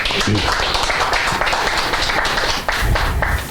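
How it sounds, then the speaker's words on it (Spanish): Congregation clapping at a church service, a dense, steady wash of many hands that stays loud and even from start to finish. "Dale un aplauso, Señor, ahí para comenzar"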